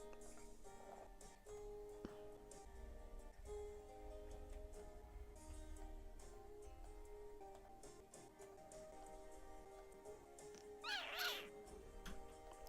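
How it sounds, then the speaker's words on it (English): A cat meows once near the end of a zoo-building management game session, a brief higher call rising over steady background music and ambient game sound. "Kitty cat."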